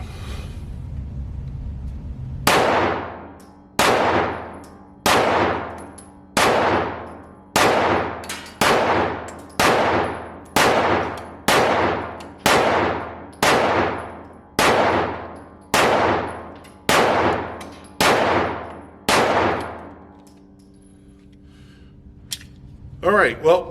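A Smith & Wesson M&P 2.0 Metal Comp pistol fires 15 rounds at a steady, evenly spaced pace. Each sharp, loud report rings out with a decaying echo before the next, and the shooting ends in quiet.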